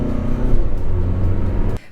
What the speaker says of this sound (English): Now the engine does make some noise